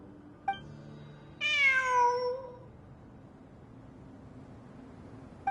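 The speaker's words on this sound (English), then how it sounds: "It really is a cat." A cat meows once in Genshin Impact, a clear rising-then-falling drawn-out call standing alone over quiet background, bracketed by two brief soft clicks.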